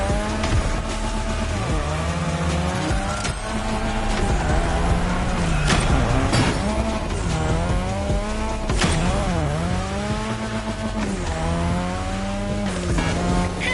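A modded Mazda RX-7 driving and drifting in the racing game Motorfest, loud continuous engine revving that rises and falls through the gears, with tire squeal under it.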